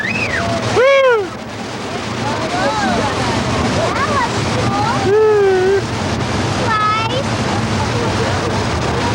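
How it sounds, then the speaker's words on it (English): Thousands of gallons of recycled water dumped down a hillside for a theme park flash flood effect, a broad continuous rush of water lasting throughout, with exclamations and voices rising over it. "That flash flood effect is created by dumping several thousand gallons of recycled water tanks on the hill."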